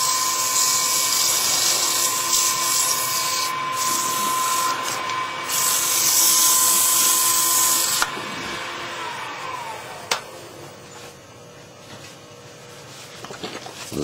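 A turned wooden hollow form is sanded with a finer grit on the lathe, a steady high whine with hissing abrasive rubbing that carries on loudly, then drops in pitch and quietens as the lathe winds down near the end.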